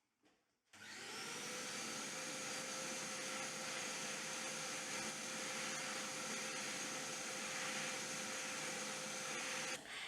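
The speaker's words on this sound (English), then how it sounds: "I'm going to hoover and clean up the floor" A vacuum cleaner starts up and runs loud and steady for about nine seconds while hoovering a workshop floor before PVC tiles are fitted, its whine constant, then cuts off near the end.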